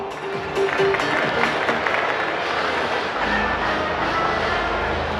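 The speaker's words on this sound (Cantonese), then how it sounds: "俾熱烈嘅掌聲" Loud, dense crowd applause fills a Hong Kong anime and game festival hall as a solo cosplayer is welcomed at a cosplay competition, with steady clapping throughout.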